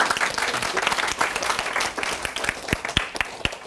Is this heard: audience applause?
yes